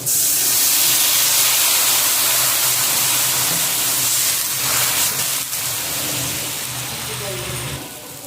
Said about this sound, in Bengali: আলুটা ভেজে নিয়েছি জল দিয়ে দেবো